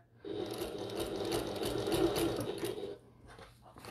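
A sewing machine runs steadily for about three seconds as bucket tote panels are stitched, its motor whir loud and close before stopping abruptly, leaving quieter handling noise.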